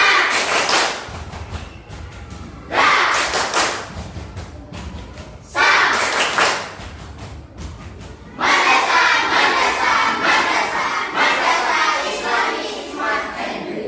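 A classroom of students does the madrasah clap chant, sharp unison clap bursts in rhythmic groups separated by short pauses, with children's voices chanting along and a final longer stretch of clapping.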